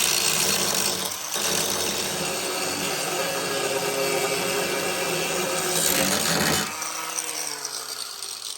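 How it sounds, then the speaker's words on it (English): An angle grinder whines steadily while cleaning up welds on the sheet metal of a 1973 VW Super Beetle, a loud continuous grind with a short dip in pitch before the disc spins down. "When I'm using the grinder to clean the welds, I'm using very little pressure."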